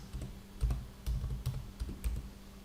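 Keys clatter on a computer keyboard in a few short bursts of typing, close and moderately quiet, with small pauses between the runs of keystrokes.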